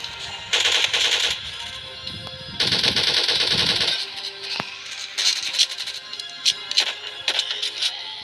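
Rapid automatic gunfire in a 3D zombie shooter game during a boss fight, with two long sustained bursts followed by shorter scattered shots and impacts, loud and close.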